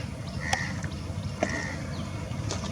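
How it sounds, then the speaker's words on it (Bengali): A fishing boat approaches on the Padma river with a steady low engine rumble, fairly faint, while a couple of brief high chirps ring out over it. "যে আরেকটা নৌকা আসছে"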